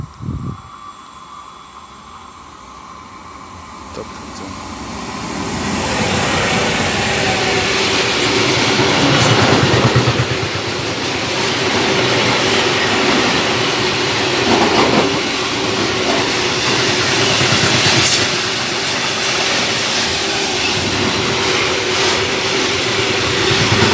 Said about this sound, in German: man hört das bereits in den Schienen. Das ist laut. Es ist ein Güterzug.